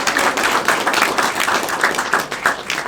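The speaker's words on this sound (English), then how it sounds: "let's give her a big round of applause" An audience at an evening gathering claps and applauds, a dense, steady patter of many hands that holds at a lively level for about three seconds with no talking over it.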